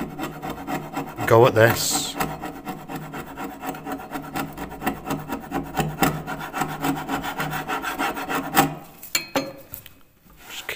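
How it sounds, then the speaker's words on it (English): A hand scraper works over the dampened surface of folding wooden loft stairs with a handrail, giving close, rhythmic rasping strokes in repeated bursts for several seconds, while a voice speaks briefly. "And then with my scraper, I'm just going to gently"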